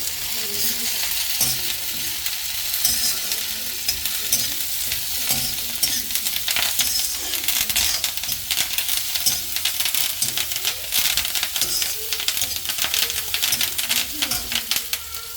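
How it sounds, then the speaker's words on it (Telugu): Cumin, coriander seeds, fenugreek and curry leaves fry in a pan with a loud, constant crackling sizzle, overlaid by frequent scraping and rattling as a spoon stirs the spices. "జీలకర్ర, ధనియాలు, మెంతులు అండ్ కరివేపాకు కూడా వేసి ఫ్రై చేసుకోవాలి."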